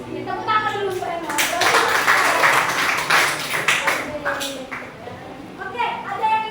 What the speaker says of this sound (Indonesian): Kita tepuk tangan dulu Pak Eno.